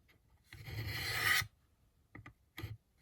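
A knife blade rasps against the abrasive belt of a Work Sharp Ken Onion benchtop sharpener in one sustained pass of about a second, followed by two short, quieter strokes, close and alone with no talking.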